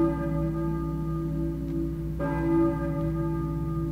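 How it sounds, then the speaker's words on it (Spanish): A church bell in the Silent Hill video game tolls with a sustained, ringing hum, and a fresh strike sounds about two seconds in over a low ambient drone. "Escucho una campana. ¿Quién la estará tocando?"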